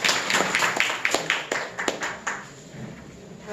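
A small audience at a poetry recital workshop claps for a poet. The claps are distinct and scattered, thin out and die away after a couple of seconds.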